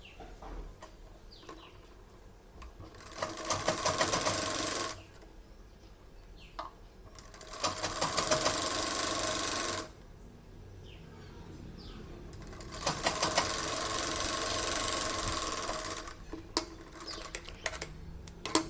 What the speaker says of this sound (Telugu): ఇటువైపుకి అటువైపుకి సైడ్స్కి కుట్టుకోవాలి.